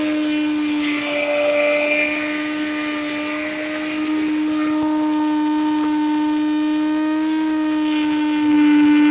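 A Niva household grain mill's electric motor running unloaded, a loud steady high-pitched whine with a strong tonal hum that holds throughout, swelling slightly near the end, with no talking.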